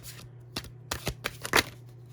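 Tarot cards are shuffled and drawn by hand in a handful of quick riffling, slapping bursts close to the listener, over a faint steady hum.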